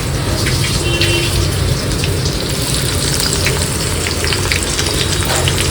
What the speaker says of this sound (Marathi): आणि हे सगळं मीडियम टू हाय या हीटवरती फ्राय करून घ्यायचं